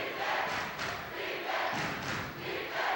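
An excited crowd at a 1998 high school basketball game between Crescent Valley and North Salem roars in a continuous, swelling wash of cheering and yelling, fairly distant and reverberant in the gym.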